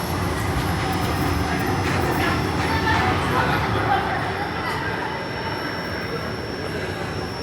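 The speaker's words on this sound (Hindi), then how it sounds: "सो 6:20 पर हमारी ट्रेन निकल रही है नासिक रोड से।" Rajya Rani Express 17611 pulling out of Nashik Road station, heard from inside a 3AC coach as a continuous rolling rumble with faint wheel squeal and distant background voices.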